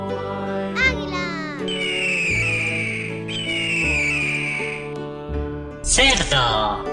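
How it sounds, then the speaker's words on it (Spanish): A cartoon eagle call from a children's animal-sounds sequence: two long, bright whistling screeches rise over steady background music, followed by a sharp, loud descending cry near the end. "Águila."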